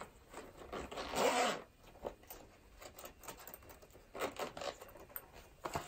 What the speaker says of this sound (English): I want to make sure the other side was fully zipped.